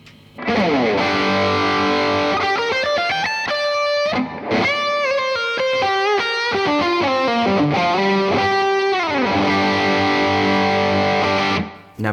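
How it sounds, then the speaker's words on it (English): High-gain distorted electric guitar through a Hook Wizard amp, loud, continuous riffing and sustained chords with sliding notes, heard alone throughout. "So that tone there was about as high gain as it gets."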